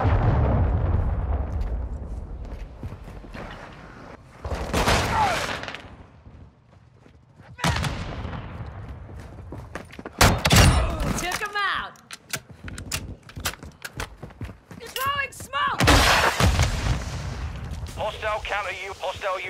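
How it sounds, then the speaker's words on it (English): Explosions and gunfire in Call of Duty: Modern Warfare II team deathmatch on the Embassy map, with repeated loud blasts and bursts scattered across the clip amid game voice announcements. "Hostile cruise missile incoming."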